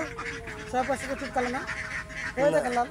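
Young ducks on a duck farm in hot weather give short quacking honks in a few bursts over a low background murmur.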